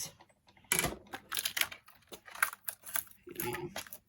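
A die cutting machine rolling paper through for a gift bag, giving a series of dry clicking, crunching mechanical bursts in irregular rhythm, close and fairly quiet.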